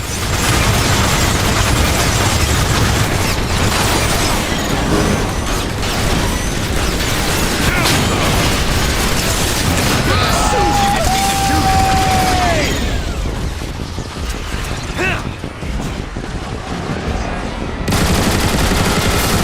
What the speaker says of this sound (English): Omega Supreme has deployed aerial bombs! Shoot them down!